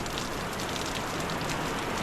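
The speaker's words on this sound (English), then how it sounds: "It's raining outside." Heavy rain pours steadily outside a barn on a tree farm, a dense, even hiss with close spattering drops on surfaces, continuous and loud throughout with no voices.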